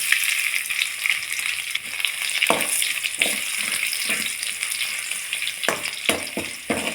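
Crushed garlic fries in hot oil with chilli and curry leaves, giving a loud, continuous crackling sizzle broken by occasional spatula scrapes in the pan.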